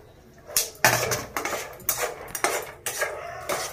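Ladoo ingredients stirred together in a metal pot, a spoon clanking and scraping against the sides in a rough, repeated rhythm of loud, close knocks.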